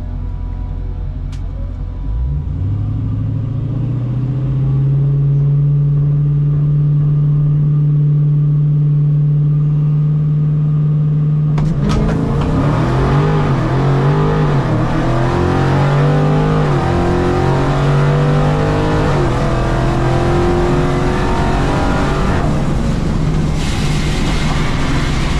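A bracket-class drag car at a Mopar drag racing event idles loudly up close, then launches hard with a roaring rise in revs. Rapid gear-change sweeps follow as it runs down the strip.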